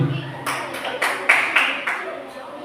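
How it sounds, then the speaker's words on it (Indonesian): A small group claps for the first classroom team at a school session, with about seven distinct claps or short bursts spaced irregularly, moderately loud and close. "tepuk tangan untuk kelompok 1"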